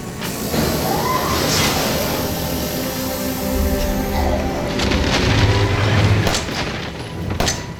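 Gunfire in the survival horror game Resident Evil 7 booms out as a dense, reverberant blast over a constant rumbling game soundtrack, with a few sharper cracks near the end.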